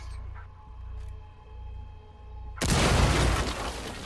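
A defuser blown apart in a video game: quiet low hum and faint ticks give way to a sudden loud, broad blast that fills everything and keeps roaring to the end.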